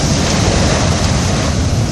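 Heavy surf pounds against a harbour jetty at Port Est on Réunion, a loud, steady wash of breaking waves with wind buffeting the microphone.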